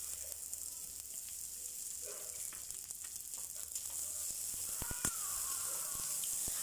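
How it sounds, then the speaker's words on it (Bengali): Chopped onion and tomato frying in a pan for aloo dum give a steady, low sizzle with a few faint clicks of stirring and no talk. "পেঁয়াজটা একটু ভাজা ভাজা হয়ে গেলে এর মধ্যে আমরা টমেটো কুচিগুলো দিয়ে দেব"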